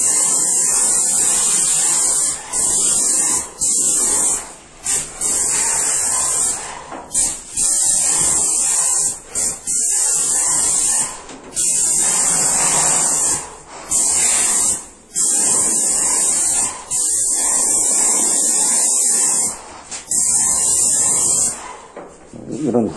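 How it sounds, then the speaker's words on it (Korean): Paint spray gun spraying tinted paint inside an apartment room, a loud continuous hiss that cuts off in brief gaps as the trigger is released and pulled again. "스프레이건이죠."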